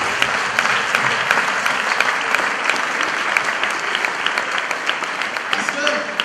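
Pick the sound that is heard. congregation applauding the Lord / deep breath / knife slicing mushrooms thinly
congregation applauding the Lord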